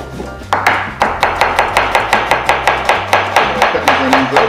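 A knife chops onions on a cutting board for chicken biryani, about fifteen crisp, evenly spaced thuds in a steady rhythm, close and clear with no talk.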